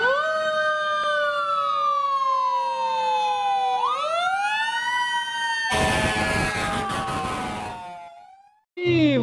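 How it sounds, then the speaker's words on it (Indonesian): A toy fire truck's electronic siren wails in long rising and falling sweeps, close and loud, then gives way to a burst of harsh buzzy noise before cutting off, with a brief restart at the end. "Di sini ada mobil pemadam kebakaran"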